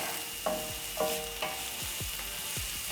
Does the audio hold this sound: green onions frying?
yes